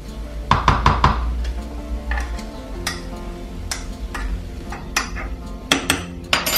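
Spoon clinking and scraping in a bowl while vegan sausage mix and dried soya mince are stirred together, giving several sharp taps and knocks in an irregular rhythm, close and fairly clear with no talking.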